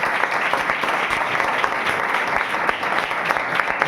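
A church congregation at a Sunday service claps loudly and continuously, a dense steady applause from start to end.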